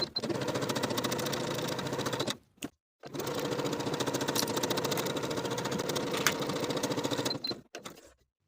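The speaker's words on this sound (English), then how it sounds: "Sew both side seams and both shoulder seams with a 3/8 inch seam allowance. I'm going to be using a narrow zigzag stitch." A sewing machine runs a narrow zigzag stitch along T-shirt side and shoulder seams, a close, rapid mechanical chatter in two long bursts separated by a brief pause, then a short final run.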